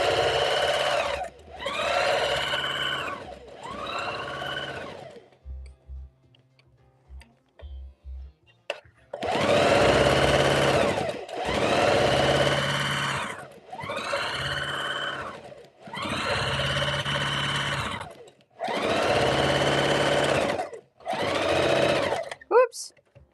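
A domestic sewing machine stitching fabric in repeated bursts of steady mechanical whirring, about seven runs of a second or two each separated by short pauses, close and fairly loud, with a quiet gap containing faint clicks early on.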